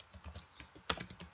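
Computer keyboard typing while coding a Bootstrap coffee shop website: soft, quick keystroke clicks with one sharper, louder key strike in the middle of the short burst.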